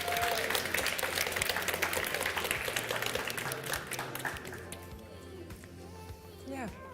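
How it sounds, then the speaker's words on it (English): Audience at a startup festival applauds, dense clapping and cheering that is loud at first and then thins out and fades, with voices over the end. "Big applause."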